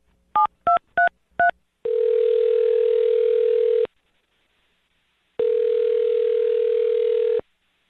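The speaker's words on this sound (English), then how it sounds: "I'm dialing the phone number." Four short touch-tone beeps from a phone keypad, followed by two long, steady ringback tones separated by a pause of silence.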